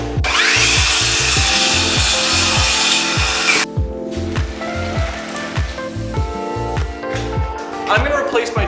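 A circular saw cuts through a plywood soffit held against a square guide jig, giving a loud bright whine for several seconds, then stops, leaving rhythmic thumping and rustling close by.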